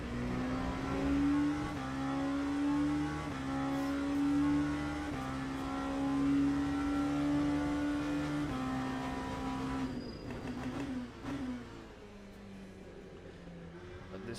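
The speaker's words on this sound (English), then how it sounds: "You're gonna sleep to the great sound of Gibson V8 engine" A Gibson V8 engine in an LMP2 prototype race car roars in the Le Mans Ultimate sim at the Circuit of the Americas, holding loud sustained revs with gear shifts before easing off and dropping lower near the end.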